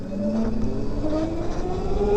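A 2017 Zero SR or FXS electric motorcycle accelerates with a smooth, rising electric whine climbing steadily in pitch over continuous road and wind rush, with no engine rumble.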